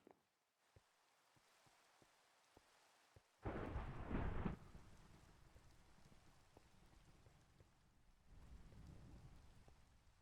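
A video-game thunderstorm: steady rain hisses under faint ticks, then a loud rolling thunder crash bursts in before the rain settles back, swelling again toward the end.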